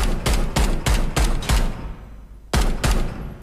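Gunfire shooting up a car in a video game: five sharp, evenly spaced loud shots, a brief lull, then two more blasts, each ringing out close and alone.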